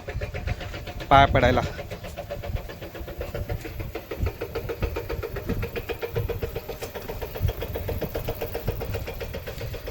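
A car engine turns over with a short starter burst, then settles into a steady idle on a hill road near Pen, while people talk nearby.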